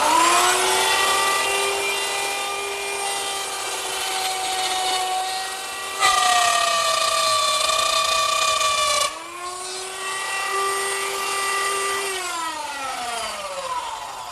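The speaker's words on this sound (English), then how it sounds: "to cut that, I use the same router setup with a stop block in a new position and a reference line to plunge down into the router bit" A router bit plunges into a wooden leg to cut a mortise, the motor's loud steady whine running with strong harmonics, with two abrupt shifts as the bit bites and lifts, then the pitch sliding down as it spins down.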